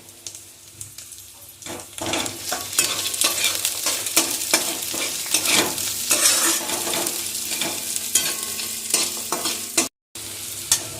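Ginger slices, 10 to 12 garlic cloves and onion fry in a pan for egg curry, giving a steady, close sizzle broken by stirring scrapes, with a brief dropout near the end.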